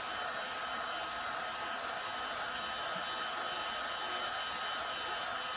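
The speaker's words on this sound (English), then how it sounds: "Before you start cutting out your foam, you want to heat seal it first." A heat gun blows a steady, loud, unbroken hiss and whoosh as it heat-seals craft foam for cosplay armor, close and alone with no talk.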